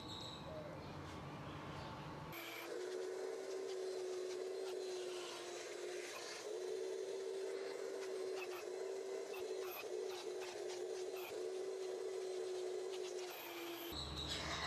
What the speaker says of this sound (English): So let's go ahead and vacuum this up